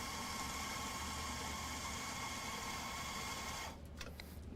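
Coffee grinder working through Ethiopia Sidamo Guji natural-process beans: a loud, dense, steady buzzing grind that cuts out abruptly near the end, followed by a few light taps.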